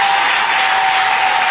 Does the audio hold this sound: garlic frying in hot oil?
no